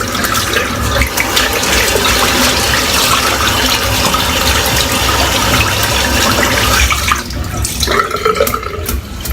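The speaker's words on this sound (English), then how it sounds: "Rinse the bowl out." Water pours loudly and steadily from a tap into a shaving soap bowl as it is rinsed out, a close, continuous splashing rush that shifts and sputters near the end.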